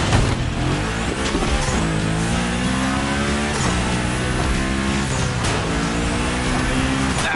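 Car drifting in The Crew Motorfest racing game, engine revving up and down continuously with tire squeal and skidding, loud and dense throughout with no talk.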